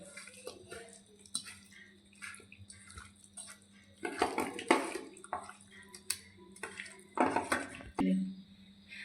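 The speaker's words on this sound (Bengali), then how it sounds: "ভালো করে এখন একটু মেখে নেব।" Chicken pakora marinade with lemon juice is mixed by hand in a bowl. Close, wet squishing and slapping comes in irregular bursts, with occasional light knocks against the bowl between quieter pauses.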